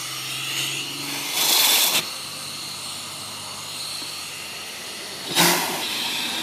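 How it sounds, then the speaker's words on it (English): Two short bursts of loud steam hissing through an off-grid steam engine and boiler, a few seconds apart, over a steady low mechanical hum. "I'll just turn on the steam here a little bit"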